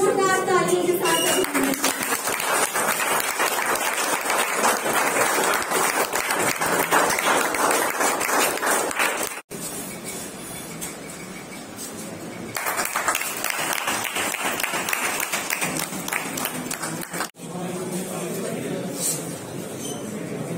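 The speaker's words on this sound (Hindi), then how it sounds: "जोरदार ताली के साथ" An audience at a welcome ceremony for Olympian daughters of Jharkhand in Khunti district applauds loudly in long, dense bursts of clapping, with two brief breaks. Voices can be heard within the applause.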